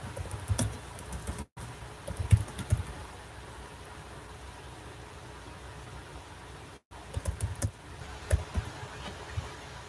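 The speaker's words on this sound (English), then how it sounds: "Typing in." Keys tapped on a computer keyboard in a quiet room, coming in short irregular bursts of soft clicks against a steady background hiss, with brief pauses between the runs.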